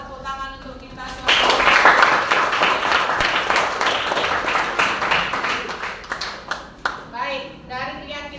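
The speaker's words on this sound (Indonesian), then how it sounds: "Tepuk tangan untuk kita semua." Students in a classroom clap together for their class. A short burst of hand claps follows a voice, holds for several seconds, and fades as speech returns.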